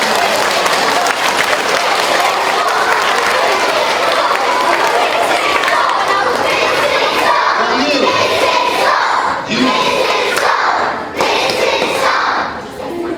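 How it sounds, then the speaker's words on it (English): Applause and cheering from a school audience during a police officer's presentation, a loud sustained wash of clapping with shouts and crowd noise throughout, easing slightly near the end. "Give that a nice round of applause, Captain."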